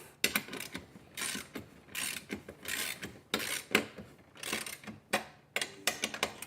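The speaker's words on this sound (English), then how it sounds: "when I'm bolting this down, I am kind of deforming the aluminum" Aluminum solar panel roof mount being bolted down, heard as close, repeated bursts of ratcheting clicks in uneven runs separated by short pauses.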